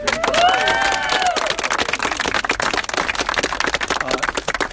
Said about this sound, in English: You all can give him a round of applause.